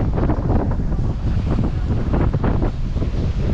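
Strong wind buffets the microphone aboard a Cyclades 50.5 sailing yacht in winter, a loud continuous roar with gusty rumbling and hiss, no talk.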